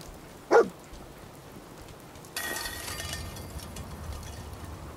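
Dogmeat, the dog companion in Fallout 4, gives a single sharp bark near the start, followed by a steady rain-like hiss of game ambience.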